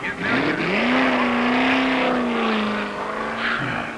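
A Holden L34 Torana race car takes off in top gear at a 1974 manufacturers championship race, its engine note loud and close, rising then holding a strong steady pitch before easing slightly near the end.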